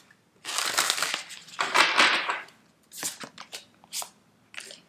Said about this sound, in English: Hold on, we are shuffling one more time.